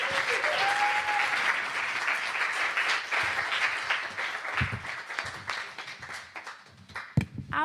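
An audience breaks into sustained applause at a political participation event, dense clapping that starts strong, then thins and fades into scattered claps near the end, with a brief voice at the start.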